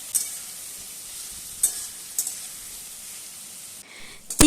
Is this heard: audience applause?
no